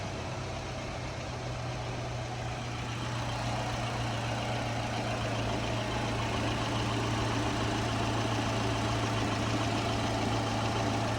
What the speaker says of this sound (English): the Chevy Cruze is running and ready to go